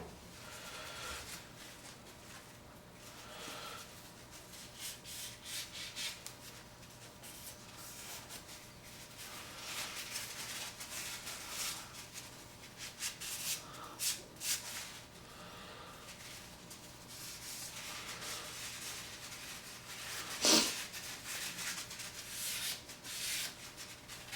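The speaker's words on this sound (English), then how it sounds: "I'm going to give this a good wipe with acetone" A knife is wiped down with an acetone-soaked cloth to clear excess glue after Enzo Trapper final assembly with brass and epoxy, soft, close, intermittent rubbing strokes with one brief sharper scrape partway through.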